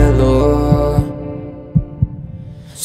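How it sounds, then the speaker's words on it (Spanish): Heartbeat sound effect in a Spanish-language pop song: a few deep, soft thumps in pairs stand out over sustained musical tones as the music thins toward near silence. "Solo se escucha el latido"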